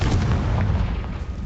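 Casting Confringo in Hogwarts Legacy sets off a fiery blast, a deep, loud boom with a crackling rumble that holds steady for about a second and a half.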